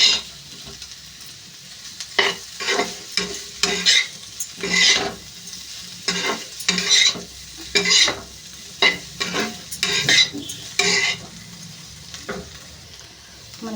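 Potato fry cooking in a pan, with a sizzling hiss under repeated bursts of stirring and scraping, irregular strokes coming in clusters, close and fairly loud, then a quieter sizzle near the end.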